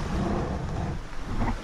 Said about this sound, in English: nice little rain here and there